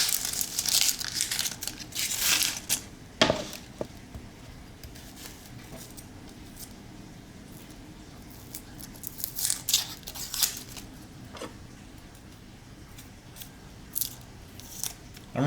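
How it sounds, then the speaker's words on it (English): Knife work on a red onion and a regular onion at home, peeling papery skins and slicing off the ends, with crinkly peeling, crisp cuts and a sharp chop, close and moderately loud with irregular pauses between. "one normal onion. Peel them, cut the ends off."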